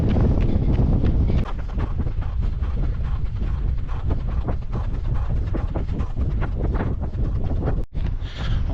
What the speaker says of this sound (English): Quite windy, like I was saying.